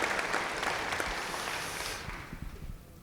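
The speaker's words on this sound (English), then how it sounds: "give yourselves a round of applause" An audience at a school district academy event gives a round of applause, a dense burst of clapping that fades to scattered claps within a few seconds.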